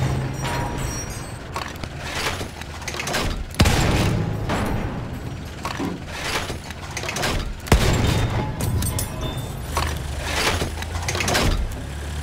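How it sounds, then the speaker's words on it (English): Gunfire and heavy booms of artillery sound out in a Battlefield 1 battle on the Fao map, with two sharp, loud blasts about four seconds apart over a constant rumble of combat. "Enemy artillery"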